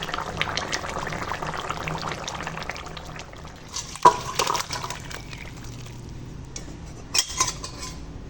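Cooked rohu fish curry being poured from a pot, a soft liquid pour with clinks and scrapes of cookware and utensils, fairly quiet and close, with no talking.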